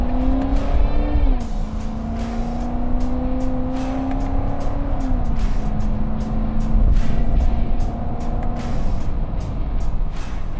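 A 2015 Corvette with an automatic transmission accelerates steadily, its engine drone climbing and then dropping in pitch at two distinct gear shifts, heard from inside with steady road noise and no talking.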